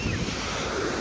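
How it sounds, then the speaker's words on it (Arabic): Sea waves wash onto a beach on Egypt's North Coast as a continuous broadband surf roar mixed with wind buffeting the microphone, steady and fairly loud with no speech. "هنا برضو البحر ده"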